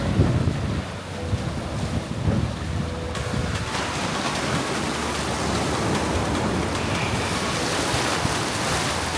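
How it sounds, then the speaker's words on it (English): Cold Baltic Sea water sloshing and surging after a plunge following a sauna near Helsinki, a steady close wash of waves with wind buffeting the microphone, continuous and fairly loud throughout. "Now I'm gonna plunge myself into this freezing cold Baltic Sea."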